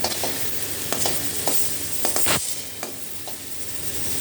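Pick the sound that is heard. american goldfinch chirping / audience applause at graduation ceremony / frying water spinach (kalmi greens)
frying water spinach (kalmi greens)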